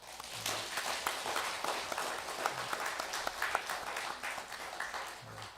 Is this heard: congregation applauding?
yes